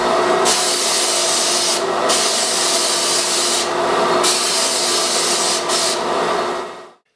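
A spray gun hisses out water-thinned Kilz primer in long continuous bursts, broken by a few brief pauses between passes, loud and close.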